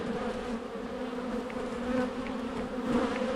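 Agitated honeybees swarm around an open beehive during an inspection, a dense, close, continuous buzzing drone with individual bees whizzing past the listener.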